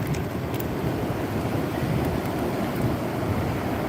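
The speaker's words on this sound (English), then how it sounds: "There's nothing I can do about the wind being out here." Strong wind roars steadily into the microphone on a beach after Hurricane Debby, a dense low rumble with surf-like wash underneath, continuous and loud with no talking.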